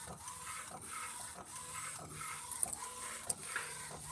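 An Epson L1800 large-format printer prints white ink, its print head shuttling back and forth in a steady repeating whir with soft thumps at each pass, a continuous mechanical rhythm with no talking.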